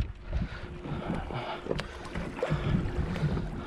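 Outboard motors run on a small center-console boat while fishing for yellowfin tuna offshore, a low churning drone mixed with wind buffeting the microphone and splashing water.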